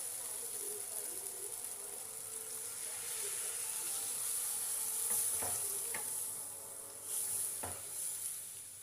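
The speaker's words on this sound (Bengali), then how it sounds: "এবার আমি জল দিয়ে দেব।" Winter vegetables frying in a pan give off a steady hiss as water is added, with several brief clinks of a spoon or utensil and a louder sizzle swell partway through.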